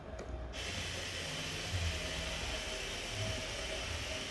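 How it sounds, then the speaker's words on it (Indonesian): Pink noise test signal plays through an SPL Audio S20 tweeter during a speaker measurement, a steady loud broadband hiss filling the whole span after a brief quieter start. "Kita coba nyalakan pink noise-nya."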